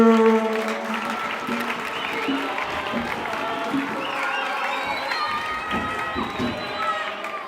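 A church congregation at a Mass for the Immaculate Conception applauds, a loud sustained clapping from a large crowd with some cheering and shouting mixed in, filling the whole stretch as voices rise within it.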